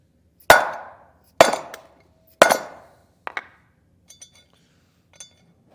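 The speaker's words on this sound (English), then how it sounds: "we'll hit that with the hammer" Three loud, ringing metallic hammer strikes on a block of wood driving a Timken L68111 bearing race into a trailer hub land about a second apart, each decaying slowly, followed by quieter taps and clinks.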